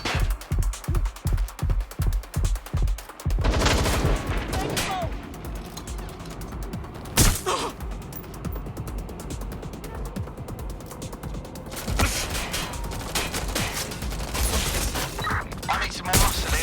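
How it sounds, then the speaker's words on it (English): Rapid bursts of gunfire open a Watch Dogs: Legion firefight, then give way to a continuous wash of shots, crashes and mechanical clatter, loud and close, with voices shouting over the chaos. "I'm taking fire!"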